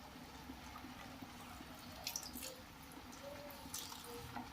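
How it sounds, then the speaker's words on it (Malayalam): Quiet, steady trickle of coconut milk being poured into a pan, with a few faint clinks and drips. "രണ്ടാം പാലാണിത് ഇതും കൂടി കുറച്ച് ഒഴിച്ചു കൊടുക്കാം"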